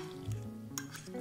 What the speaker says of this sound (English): I'm now gonna just use a regular fork and just mix it all together